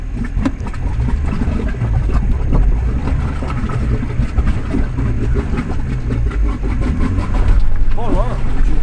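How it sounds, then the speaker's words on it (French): An off-road vehicle's engine at the Evosges 2014 event is revved in repeated throttle bursts, rising and falling close by, with people talking over it. "Mettre des à-coups au gaz. Le laisser repartir, relancer"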